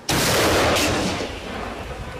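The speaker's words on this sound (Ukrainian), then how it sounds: "Кожен день стрільба, постріли, робота. Постріл!" A single loud artillery blast booms out sharply, followed by a rolling echo that fades slowly over the next two seconds.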